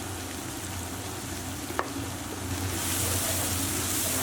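Garlic, black pepper and Hungarian paprika stirred together in a pan, giving a steady low sizzle with soft scraping, one brief tap partway through and a slightly brighter hiss toward the end, close and without speech.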